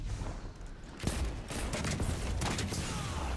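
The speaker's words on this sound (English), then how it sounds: "Ooh, that's a fast grenade launcher." Rapid bursts of weapon fire from a fast-firing grenade launcher in the video game Destiny 2 during a Crucible match, with sharp repeated blasts and a steady busy background of gameplay action.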